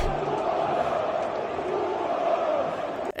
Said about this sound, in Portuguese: A torcida gritando Hugo